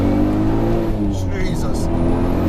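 A 462bhp turbocharged VW Golf R32 pulls hard under acceleration, a loud, steady engine drone with dense low rumble heard from inside the car throughout, with brief faint voices over it.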